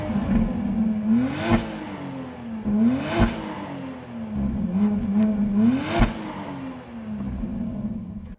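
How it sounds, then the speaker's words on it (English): The engine of a 2025 BMW X3 M50 revs three times, each blip rising sharply to a peak then falling back to a steady idle, heard close and clear with no talk. "Very good engine, very nice sound."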